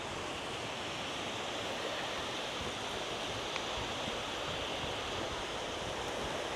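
Ocean waves wash onto Ao Manao Beach in Thailand as a soft, constant surf rush, faint and even throughout, with no voices.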